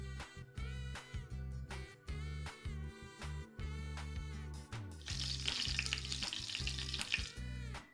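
Chicken meat frying in hot oil for a tofu gulai dish gives a continuous crackling sizzle close by, growing noticeably louder and busier partway through, with a low tonal backdrop underneath.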